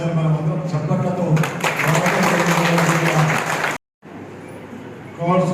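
A crowd claps at a new ration card distribution event in Bodhan constituency. The applause swells in partway through, mixed with a voice, then breaks off in a brief silence before a voice carries on over the fading claps.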